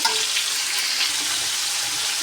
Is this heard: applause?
no